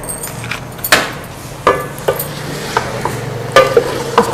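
Onions with ground ginger frying in a pot for beef biryani, a steady close sizzle broken by occasional sharp taps and scrapes of a stirring spoon against the metal.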